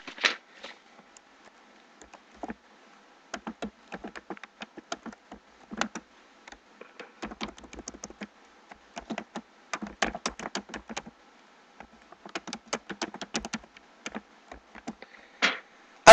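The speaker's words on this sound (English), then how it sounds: "you can just type it in right here" A question being typed on a computer keyboard: irregular bursts of close, crisp key clicks with brief pauses between words, alone with no talk.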